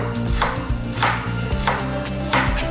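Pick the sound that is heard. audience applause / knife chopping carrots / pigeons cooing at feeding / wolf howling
knife chopping carrots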